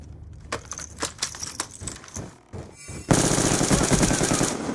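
Light machine gun fire in Black Ops 2, scattered clattering bursts and impacts giving way to a sustained loud automatic volley in the final seconds.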